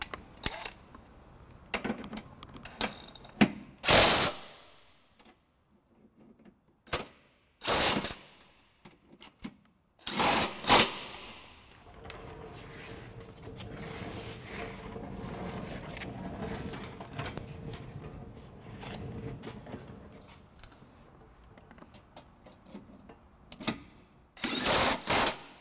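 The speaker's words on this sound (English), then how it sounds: "we'll just snug them up with the drill motor here" A 19 mm socket on a drill motor snugs trailer hitch bolts on a 2010 Scion xB, with several short, loud whirring bursts separated by pauses and a longer quieter stretch of rattling work noise.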